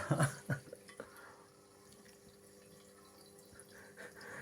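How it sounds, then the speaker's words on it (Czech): Water trickles and splashes softly from a cat's pet water fountain pump, a few louder splashes at first, then a quiet steady flow. "To čerpadlo má hrozně takový zajímavý zvuk."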